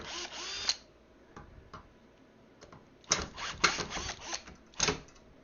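A power drill drives screws into a triple-screen stand for a sim racing rig, with short whirring bursts separated by pauses and a couple of longer runs, close and loud with no talk.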